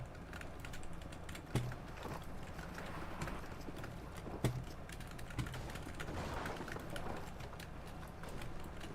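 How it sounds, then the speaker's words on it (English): Computer keyboard typing during a Fortnite stream, a steady stream of soft clicks with a few sharper key hits, close and continuous under quiet game sounds. "You guys can hear my keyboard, bro."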